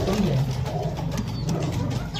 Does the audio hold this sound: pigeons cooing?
yes